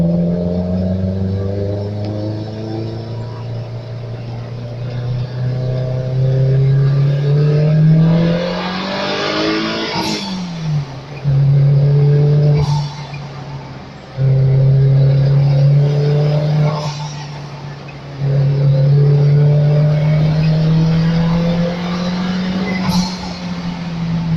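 A Fiat GT turbo engine mounted in a Fiat X1/9 Integrale prototype revs repeatedly, close and loud. The pitch rises with each blip, then drops back between pulls, and the revs are briefly cut off several times.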